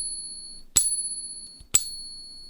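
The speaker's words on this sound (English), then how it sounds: "here is a real Morgan silver dollar on the pinger." A genuine Morgan silver dollar balanced on a coin pinger rings out twice when tapped, each strike giving a bright, sustained high-pitched ring that lingers steadily between the two close taps.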